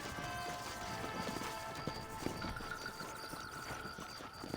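Horse hooves clip-clop at a rapid galloping rhythm in a video game wagon-escort scene, fairly faint and steady, with a busy background mix.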